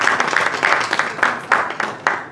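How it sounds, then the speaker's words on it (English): Audience applause welcomes a speaker at a talk on LLMs, intellectual property and copyright. Steady crowd clapping fills the room, with a few louder individual claps standing out near the end. "Please welcome Ms. Pritika Kohli with a huge round of applause."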